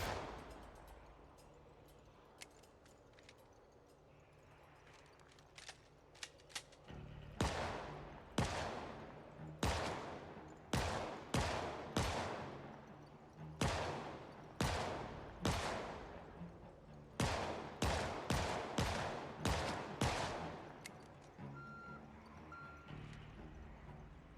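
Damaged firearm in the game Project Zomboid fires a long series of sharp shots, single and in quick clusters, loud and close over a quiet background, with no talking.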